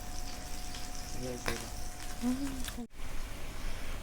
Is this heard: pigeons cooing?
no